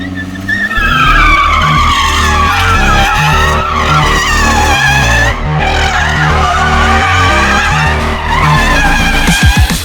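A Cupra Formentor VZ5 in drift mode slides with loud, sustained tire squeal over a revving engine, the screech wavering in pitch as the car swings through the drift, with no talking.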